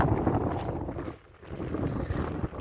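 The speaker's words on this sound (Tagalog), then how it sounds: "Sobrang hangin. O, lakas ng hangin." Strong wind at Jebel Fihrayn (Edge of the World) near Riyadh, Saudi Arabia, buffets the microphone in heavy, rumbling gusts, easing briefly mid-way before roaring back, loud and close with no voices.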